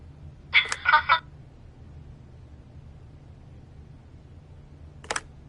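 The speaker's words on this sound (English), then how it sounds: "Phone rings off the hook sometimes." A telephone rings once in a short burst of trilling electronic tones, followed a few seconds later by a single brief click, in an otherwise quiet room with no talking.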